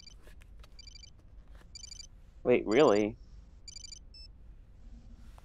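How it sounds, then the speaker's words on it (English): A video game codec call rings in short repeated electronic beeping bursts, brightly pulsed and evenly spaced across the clip, while a person briefly speaks in surprise partway through. "his codec is ringing."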